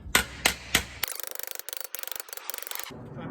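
A small ball peen hammer works sheet metal on a swage block in a metal shop, first with three sharp separate strikes, then a rapid, even run of lighter taps.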